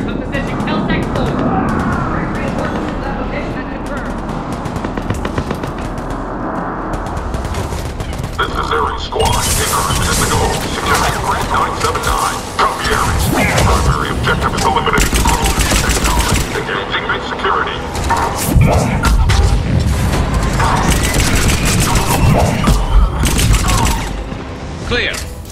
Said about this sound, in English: Taking enemy fire from position Kel-Tec 4.